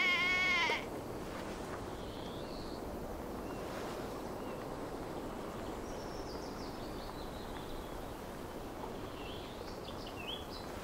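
Sheep bleating in the video game Assassin's Creed Valhalla, a short clear bleat at the start over a steady outdoor ambience that may include surf, with faint bird-like calls later.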